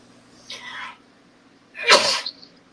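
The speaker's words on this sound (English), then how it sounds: "I'm trying not to sneeze," Two sneezes close by: a soft stifled one first, then a sharper, louder burst about a second later, with quiet room tone between.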